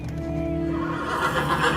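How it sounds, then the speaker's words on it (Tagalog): A large black horse neighs in one drawn-out, wavering whinny, fairly close and clear, trailing into rougher breathy noise at the end. "Hanggang sa paghiga ni Mama Diana, dinig pa rin niya ang halinghing ng kabayo ni Tonyo na parang umaaligid sa kanilang bah"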